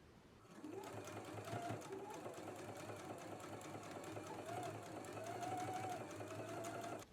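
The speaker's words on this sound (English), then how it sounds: "Let's go ahead and do an edge stitch now." A sewing machine runs steadily at close range while edge stitching a patch pocket, with a continuous whirring motor and rapid needle rhythm that holds for several seconds without talk.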